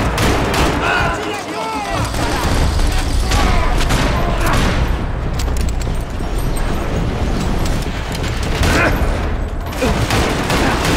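Gunfire from the video game Max Payne 3 rattles in dense, continuous bursts, loud and chaotic throughout, with booms mixed in and a voice talking over it.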